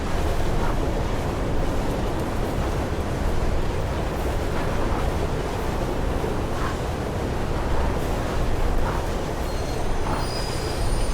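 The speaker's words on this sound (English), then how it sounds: "train is slowing down, I can jump and lock myself" Train in the Mirror's Edge video game, a loud continuous rumble of wagons on the rails with high wheel squeals scattered throughout as it slows, and no voices.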